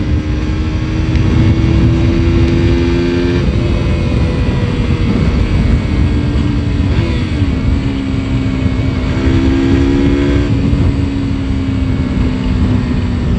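Motorcycle engine revving hard during a road ride with a wheelie in Bhilai, a loud, steady, close drone that rises and dips in pitch, with wind rush and no talking.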